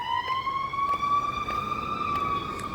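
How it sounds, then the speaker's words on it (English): An ambulance siren passes by outside, a loud sustained wail with a slowly rising pitch and strong harmonics, steady throughout with no talk over it. "there's a whole big old ambulance going through, loud"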